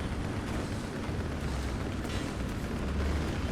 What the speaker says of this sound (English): Some artillery coming in.